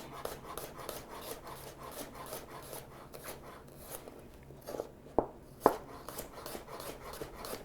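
Raw garlic being thinly sliced with a knife on a cutting board: a quiet, steady series of rapid soft taps and scrapes, close up, with two sharper knocks near the end and no talking.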